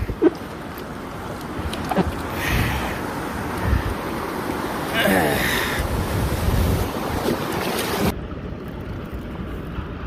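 Whitewater river rapids on a Colorado Front Range run by packraft, rushing waves and churning water close by, with wind buffeting the microphone and surges of spray before a sudden cutoff.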